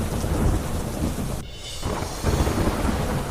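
Heavy rain in Madhya Pradesh pours as a dense, steady roar, with a rolling rumble of thunder swelling beneath it; the downpour dips briefly midway before surging back, loud and close, with no voices.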